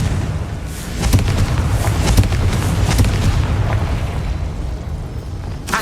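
Confringo blasting-spell explosions in the Hogwarts Legacy video game: a run of loud booms and bursts, several impacts spread over a few seconds, close and heavy with no talk.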